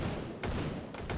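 Gunfire in the VR shooter Hot Dogs, Horseshoes & Hand Grenades, with a few sharp reports cutting through a rumbling, fairly quiet background of distant shots.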